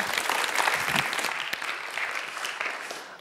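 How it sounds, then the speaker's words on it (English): An audience claps throughout, a full, continuous round of applause that holds steady from start to finish. "A round of applause for Maya."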